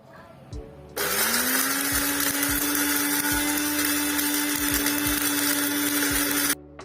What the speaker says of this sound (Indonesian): selanjutnya daun yang telah kering dihaluskan menggunakan blender